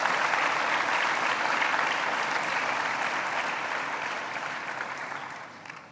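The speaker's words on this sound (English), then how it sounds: "So a big claps to all the students who have got this distinction and all" A large audience at a university alumni meet claps steadily and loudly in a dense wash of applause that slowly fades toward the end.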